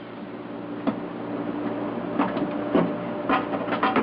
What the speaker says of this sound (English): Now I'm just cutting the tack so that I can bring it over to the bench and fully weld it.